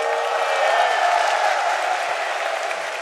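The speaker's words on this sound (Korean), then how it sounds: "여러분 다시 한번 큰 박수 부탁드릴게요." An audience at a televised military morale concert at the Navy Education and Training Command claps continuously, a full, even wash of applause that fades slightly toward the end.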